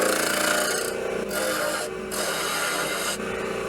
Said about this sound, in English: We'll just whittle away at the corner a little bit.